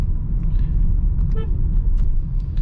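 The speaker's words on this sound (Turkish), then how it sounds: "Ford geliyor." A Ford car engine rumbles low and close on a mountain road, with a brief higher tone cutting through the steady drone.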